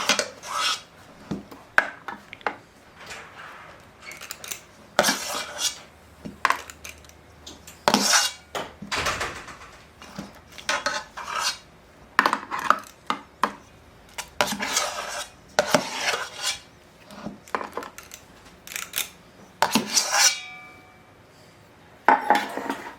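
Small metal muffin tins are handled on a kitchen counter, giving repeated close clatters, scrapes and clinks in irregular bursts over about twenty seconds, with no talking.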